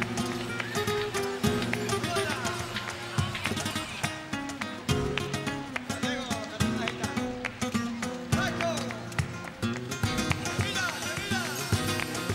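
Spanish purebred horses at the Jerez horse fair in Spain, their hooves clip-clopping in an uneven rhythm beneath loud, continuous music.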